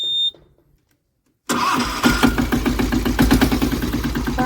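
A new tractor's engine cranks briefly after a near-silent pause, then catches and settles into a loud, steady, rhythmic diesel chug close by.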